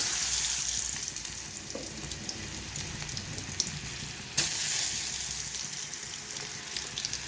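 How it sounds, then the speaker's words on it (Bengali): Pumpkin, potato, carrot and other firm vegetables fry in hot oil for a mixed vegetarian dish, giving a steady, moderately loud sizzle with a faint clink or two and no voices. "এবারে আমি সবজিগুলো এক এক করে ভেজে নেব। দিয়ে দেবো প্রথমে কুমড়ো,"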